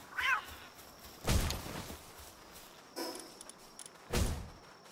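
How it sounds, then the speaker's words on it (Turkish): A cat meows once, short and high, in the video game Palworld, followed by a few dull thumps and knocks spaced through the quiet background. "Birazcık kedi yakalayalım."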